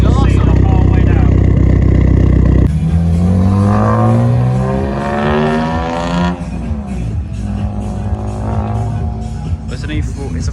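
BMW E46 M3 at a car show with a large exhaust, a deep sustained engine note that rises and falls through rising revs, loud and close, with people talking in the crowd around it.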